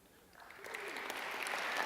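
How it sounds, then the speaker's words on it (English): Applause from a commencement ceremony audience at a public policy school graduation, swelling from quiet to a steady, fairly distant ovation for a graduate being called. "Maybe I should ask that you hold your applause till the group is finished"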